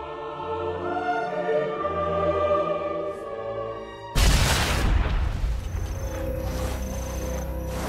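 A German M24 stick grenade explodes in a WWII video game, a single loud, sudden boom with a long rumbling tail that cuts through steady background music.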